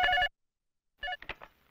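A telephone rings indoors in two short electronic bursts, the first right at the start and the second after nearly a second of silence, followed by a few choppier fragments.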